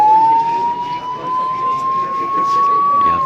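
An ambulance siren sounds during an outdoor earthquake mock drill, a single long tone rising slowly in pitch, loud and steady over a murmur of crowd noise.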